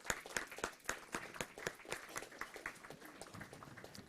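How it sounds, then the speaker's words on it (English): Scattered hand claps from a small audience at a live hackathon event, sharp and distinct, fairly faint and thinning out toward the end. "Give him a round of applause."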